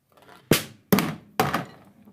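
A large marble drops onto a snare drum in a marble machine, striking three times in a quick, even sequence of sharp, close thuds, each fading within about a third of a second.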